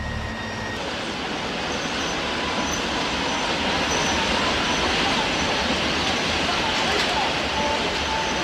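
A freight train rolls past on the rails, with a loud, continuous, dense rumble and rattle of wagons that stays steady and close from start to finish.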